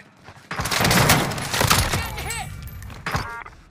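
Rapid bursts of automatic gunfire ring out close and loud in Call of Duty Warzone, a sustained fusillade with scattered impacts, while a player talks over it.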